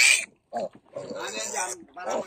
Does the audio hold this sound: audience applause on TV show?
no